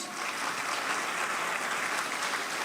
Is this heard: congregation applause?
yes